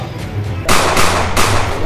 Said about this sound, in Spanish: suéltalo unos tiros al aire ahí para que vean rostro que estamos aquí